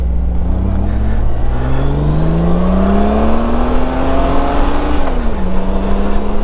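A Honda Goldwing motorcycle out on a ride hums with a loud, close engine drone whose pitch climbs steadily as it accelerates, then dips briefly near the end before settling; no talking.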